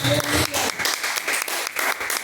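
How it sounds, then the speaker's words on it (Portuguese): A church congregation claims in rhythmic, cheerful applause during a live worship service, with a brief voice at the start and a steady patter of claps throughout. "E as palmas bem alegres para Jesus."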